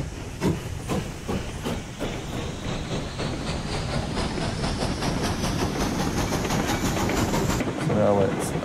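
Steam locomotive hauling log cars in the Railroads Online game, a steady loud hiss of steam with rhythmic chuffing and wheel clatter running through the whole stretch.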